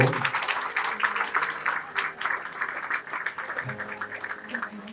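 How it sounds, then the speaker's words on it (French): Sustained applause from an audience at a reception with songs, an even wash of clapping lasting several seconds with faint voices mixed underneath. "je me demande d'applaudir bien fort"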